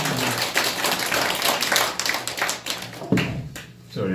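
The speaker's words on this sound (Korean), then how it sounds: "박수로 맞이해 주시면 감사하겠습니다" Audience at a fair-election coalition launch rally applauding to welcome a speaker, with dense, sustained clapping for about three seconds that then thins out.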